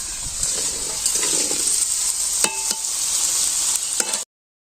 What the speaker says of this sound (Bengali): আলু আগে ভেজে মো